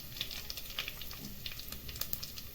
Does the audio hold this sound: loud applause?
no